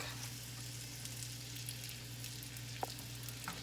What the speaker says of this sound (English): It sizzles when I move it around the pan.